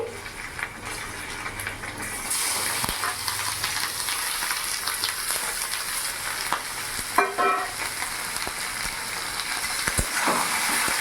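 Chicken frying in a pan, with a loud hissing sizzle that swells after the meat goes in, and occasional clanks and scrapes of stirring, heard up close.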